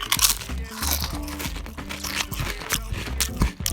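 A plastic bag is crinkled and crunched close to the microphone to mimic noisy eating, a dense, continuous rustling and crackling throughout.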